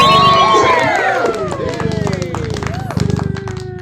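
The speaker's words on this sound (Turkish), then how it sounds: "Alkış." Cat Escape game crowd noise with clapping and cheering, a busy bright mix of tones swooping overhead, steady and fairly loud throughout.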